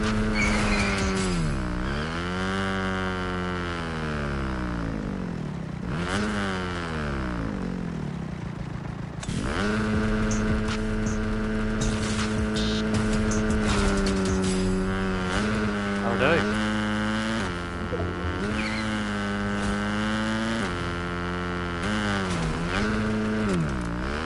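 A Fortnite motorbike engine drones loud and close, its pitch swooping up and down through repeated revs and sustained runs for over twenty seconds, with no talking over it.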